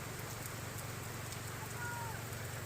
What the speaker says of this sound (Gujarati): આવ્યો મેઘ રાજા કેટલા દિવસ પછી વરસાદનો ધોધમાર